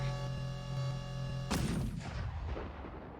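An artillery howitzer fires in modded Minecraft (Immersive Intelligence), a single loud, sharp boom that cuts over a steady droning hum and then rolls away into a fading rumble.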